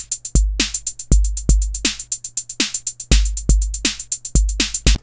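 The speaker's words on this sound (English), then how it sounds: "And then we got this MIDI drum loop" A MIDI drum loop plays back in Ableton, with punchy kicks, snappy snares and a running hi-hat pattern repeating in a tight, loud groove and no talking over it.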